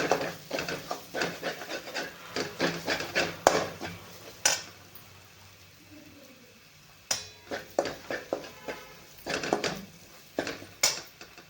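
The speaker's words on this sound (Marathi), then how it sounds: "चांगले आपल्याला हलवून घ्यायचे" A spoon scrapes and stirs sev vegetable curry with turmeric in a metal pan, giving a steady run of rubbing, clinking strokes that pause briefly midway and then resume, close and alone.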